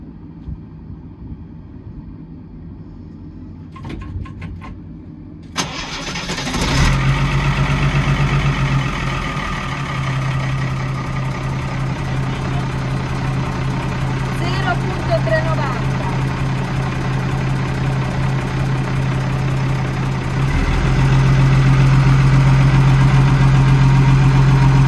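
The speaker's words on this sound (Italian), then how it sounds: "io la provo a mettere in moto" A large diesel truck engine with an electrical fault cranks briefly, catches and settles into a steady, loud low rumble of idling, growing slightly heavier near the end.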